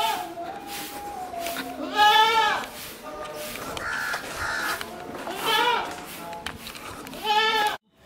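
Loud, wavering bleats of goats break out several times among chickens and other animal calls and a busy outdoor background with crowds and monkeys at Haji Malang.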